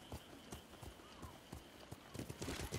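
Horse hooves clip-clop steadily in the video game Ghost of Tsushima, a close, rhythmic trot of regular thuds continuing throughout.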